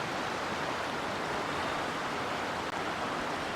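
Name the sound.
mountain stream and waterfall (burn) near Lochnagar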